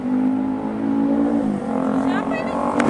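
A car engine runs steadily and rises slightly in pitch as it revs, staying close and loud throughout while people talk over it.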